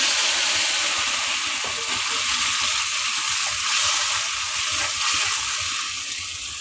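Chopped onion and whole cumin fry in hot oil with a broad, steady sizzling hiss and faint clicks of stirring, close and continuous with no talk.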